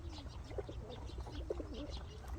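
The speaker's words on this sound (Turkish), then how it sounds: "Bunlar da kuşar, uçan arkadaşlarımız, kuşlarımız." Birds being fed, mostly pigeons or doves, give soft repeated coos and a few chirps, fairly faint against light background noise.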